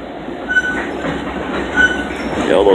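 A Long Island Rail Road train rolls along the tracks in a steady, close rumble, with faint wheel squeals rising briefly twice over the continuous rail noise.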